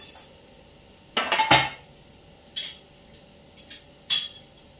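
A pan and utensil clink a few times as fried cabbage wadis are lifted out, giving scattered metallic knocks over a faint background hum.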